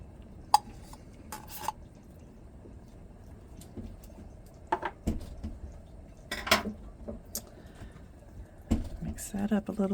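Chili with tomato paste stirred in a pot, scattered metallic clinks and scrapes of a spoon against the pan in an irregular rhythm, close and fairly quiet, with a faint background murmur.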